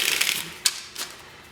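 Tarot cards are shuffled in a short burst of crisp riffling clicks, followed by two sharper snaps as the deck settles, close and fairly loud with no talk.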